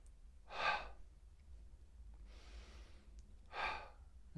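Deep exaggerated breaths during a rapid breathing exercise: two loud, forceful breaths spaced about three seconds apart, with a softer breath between them, close and alone.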